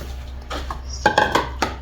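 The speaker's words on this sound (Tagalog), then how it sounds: "hugas ng plato" Plates and cutlery clatter while dishes are washed in a home kitchen after work: a few soft knocks, then a quick run of sharp clinks and one last clink, close by with no talk.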